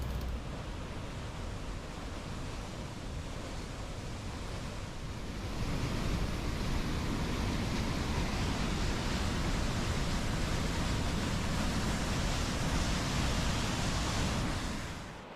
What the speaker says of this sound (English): It ended with this fabulous waterfall.